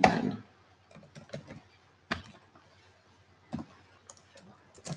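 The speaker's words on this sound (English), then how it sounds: "You can just go and click make a folder" Computer mouse clicks sound in a quiet room, a few sharp isolated clicks spaced irregularly with soft faint tapping between them and a brief louder burst at the start.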